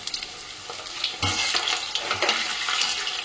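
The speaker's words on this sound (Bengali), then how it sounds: "এই দেখো কত সুন্দর ভাজা হচ্ছে।" Veg manchurian balls fry in hot oil, bubbling and sizzling steadily and close by. The sizzle swells louder partway through, with light scraping as the balls are turned, and no one speaks.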